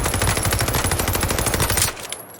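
Rapid automatic gunfire from the Warzone video game rattles in a dense, continuous burst for about two seconds, loud and close, then stops abruptly.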